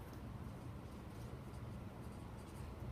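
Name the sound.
writing out an answer by hand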